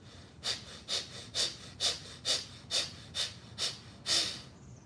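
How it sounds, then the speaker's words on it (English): Close, rapid rhythmic breathing during a yoga blocks practice: about nine sharp, evenly spaced breath bursts in quick succession, with no talking. "Inhale up. Breathe it."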